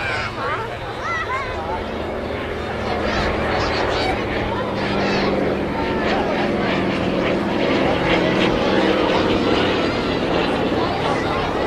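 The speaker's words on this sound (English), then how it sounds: "hear more radial engines from the F-4U Corsair and the C-47 as it comes by" Propeller warplanes at an air show, including an F4U Corsair and a C-47, their radial engines droning loudly as they pass, the rumbling growl swelling steadily, with a crowd murmuring and a voice talking underneath.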